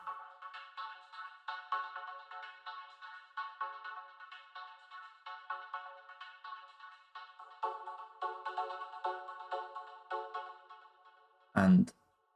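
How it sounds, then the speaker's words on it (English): A sustained vocoder vocal pad with a robotic, harmonically rich texture plays steadily for most of the clip, ending with a brief loud burst. "that's the kind of vocal pad"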